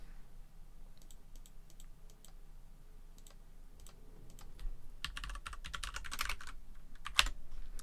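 Typing on a computer keyboard, a long stretch of quick irregular key clicks close by, getting louder and denser toward the end with a sharper final tap, and no speech.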